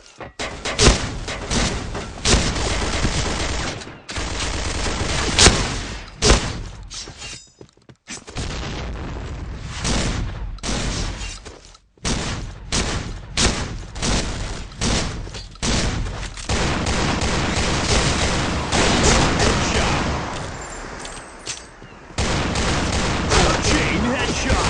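Rapid shotgun blasts and gunfire from the first-person shooter game Point Blank, loud and dense with booming shots in bursts, broken by brief pauses.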